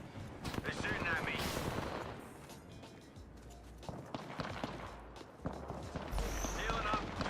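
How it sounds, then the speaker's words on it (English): Rapid bursts of video-game gunfire crackle through a busy online roleplay shooter session, with loud volleys near the start and again at the end, heavy low thumps underneath and voices talking over the action. "They're shooting at me."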